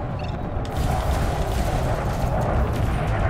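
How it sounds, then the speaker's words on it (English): Turret-mounted cannons in the space combat game Elite Dangerous fire heavy, booming rounds amid a rumbling, mechanical din. The impacts are thick and low, overlapping into a continuous barrage. "Ooh, this guy has cannons. Turreted cannons. I hear them."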